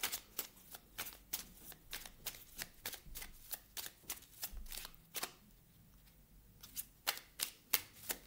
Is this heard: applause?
no